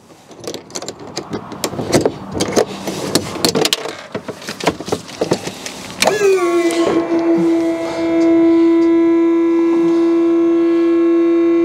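Powered tilt mechanism on an aluminum or steel tilt trailer starts up midway, a steady loud electric hydraulic pump whine holding a constant pitch after earlier clanking and rattling handling noises.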